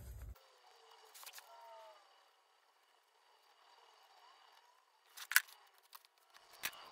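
Scissors trim paper in a couple of short, crisp snips set against near silence, with a faint rustle of paper in between during a quiet planner setup.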